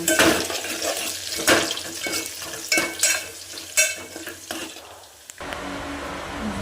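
Khichdi being tempered in a hot pan sizzles and crackles while a utensil stirs and scrapes, a steady frying hiss that settles into a quieter hum.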